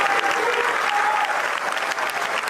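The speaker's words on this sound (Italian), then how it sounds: "Un lungo e fragoroso applauso ha accompagnato l'ingresso della bara bianca." A long, loud applause from a large funeral crowd as the white coffin of a 21-year-old enters the cathedral, dense and sustained, with many hands clapping together in a reverberant space.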